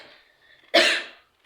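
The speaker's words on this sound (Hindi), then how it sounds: "खांसी बहुत आती है हमको" A single loud, harsh cough bursts out close by and dies away within half a second, following a brief stretch of faint background murmur, from a woman cooking a potato and parwal vegetable dish at home.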